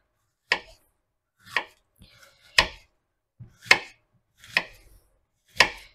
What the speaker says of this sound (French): je vais y aller au couteau, en faisant les trucs le plus fin possible